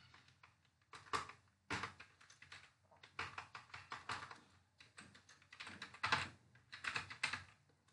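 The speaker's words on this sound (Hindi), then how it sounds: "मैं पार्टी नेम टाइप करता हूँ वीके एंटरप्राइजेस" Fingers type a party name into Tally accounting software on a computer keyboard, a quiet, close run of irregular key clicks in several quick bursts separated by short pauses, with no talking.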